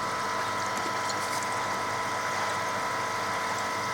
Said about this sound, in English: I've got the 2 air pumps over here.